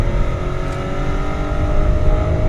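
Inside a 2016 BMW 750i 7 Series with its V8 driven hard around a circuit, the engine gives a loud steady drone that rises slightly in the final second, with no talking.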